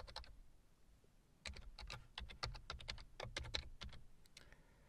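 A PowerShell command typed on a computer keyboard, with a quick run of clicky keystrokes after a brief pause, close and fairly quiet with no talking.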